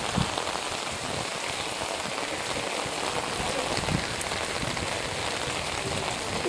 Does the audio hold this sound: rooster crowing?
no